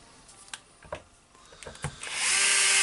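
A Makita HR2811F rotary hammer drill, built in 2007, is tested after repair on a workbench. A few clicks and knocks of handling come first, then the motor starts up with a loud, steady whine close by.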